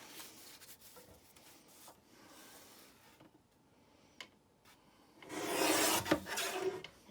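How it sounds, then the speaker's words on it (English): Scissors trim excess edges off a burlap pillow cover, with soft rasping cuts and rustling of the coarse fabric close by, quiet at first, then a louder, denser burst of cutting and handling near the end. "We'll go ahead and trim it off."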